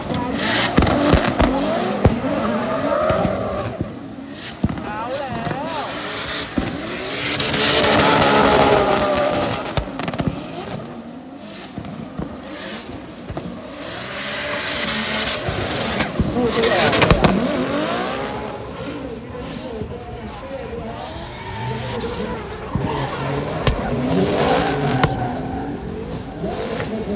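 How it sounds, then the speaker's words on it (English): Cars drift at a car show in Southern Thailand, their engines revving and whining in long rising and falling surges with popping bursts, somewhat distant, over crowd noise and occasional talk. "I hear drifting going on back"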